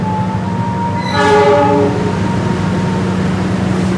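A train rumbles steadily nearby at Gombong Station, Indonesia, while a horn sounds a sustained multi-tone blast partway through, the low engine drone continuing throughout.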